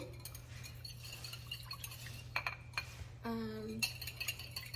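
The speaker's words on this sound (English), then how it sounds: "I'm going to whisk it nicely, so it's getting that nice and creamy consistency already." A whisk works thick congee in a pot, with quick metallic clinks and taps against the pot side in uneven bursts over a low steady hum.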